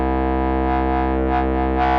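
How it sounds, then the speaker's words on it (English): A sustained synthesizer drone with a rich, buzzing harmonic tone, its filter nudged by random voltage so the brightness swells and recedes in a few irregular sweeps; steady, loud and alone, with no voices. "to turn a static drone into something nice by adding filter modulation"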